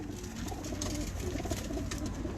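Pigeons cooing softly on a rooftop loft, low murmuring calls blending into a dense, steady background of ambient noise, with no talk.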